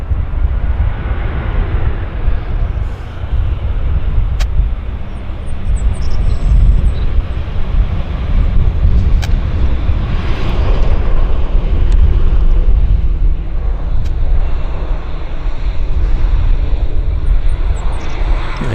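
An Air Canada A320 airliner landing at Vancouver airport, a loud sustained jet engine roar with rumbling low end, steady and fairly close throughout, heard alone without talk.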